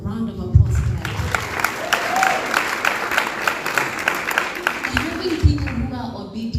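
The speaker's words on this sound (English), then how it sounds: "Can we please give God a round of applause for that?" A crowd applauds steadily throughout at a live book launch, a dense wash of clapping with occasional louder bursts and faint voices mixed in.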